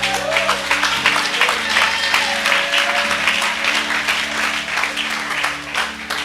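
A church congregation breaks into sustained, dense applause that fills the whole stretch, loud and steady, with a low musical drone sitting underneath the clapping.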